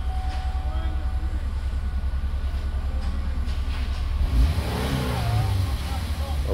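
A Chevrolet GMC car engine drones with a steady low rumble, then revs higher as it accelerates, heard close and continuous while a person speaks over it.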